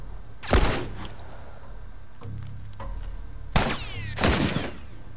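Sniper gunfire in The Last of Us video game: two separate sharp, loud shots a few seconds apart, each with a ringing echo tail, with smaller thuds between and no talk.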